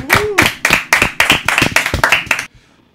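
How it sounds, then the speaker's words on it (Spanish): A small audience at a live band session claps in a quick, even burst of about a dozen sharp, close handclaps lasting a couple of seconds, then stops abruptly into near silence. "Un fuerte aplauso, carajo."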